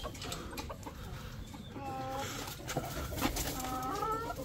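Desi chickens clucking nearby in a quiet backyard, with several short, soft clucks and murmurs over a low background hum.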